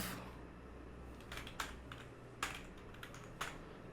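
Quiet keystrokes on a computer keyboard while CSS code is typed, a few sparse clicks and short bursts over a faint background hum.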